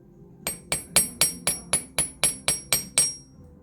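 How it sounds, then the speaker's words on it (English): Ten sharp, evenly spaced hammer strikes on silver ring out in a steady rhythm, each a bright clink with a short decay, close and clear. "So we're going to hammer it."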